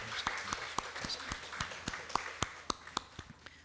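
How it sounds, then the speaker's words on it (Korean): A church congregation at a Sunday worship service claps after a prayer, sparse and uneven handclaps rather than a full ovation, fairly faint and distant, with sharp individual claps standing out. "하나님 영광의 박수 올려드리겠습니다."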